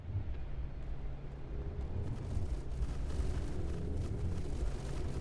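Fragmentation shell explosions tearing into armor in the naval combat game From the Depths, a continuous rumbling barrage of blasts, dense and loud, with sharper crackling impacts thickening in the second half.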